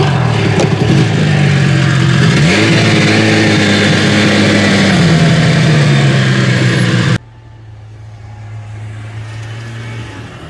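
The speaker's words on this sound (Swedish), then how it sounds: "nu drar jag igång skotern" A snowmobile's small engine starts up and revs, rising in pitch, then runs loudly for several seconds before cutting to a quieter, steady idle.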